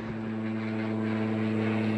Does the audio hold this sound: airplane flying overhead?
yes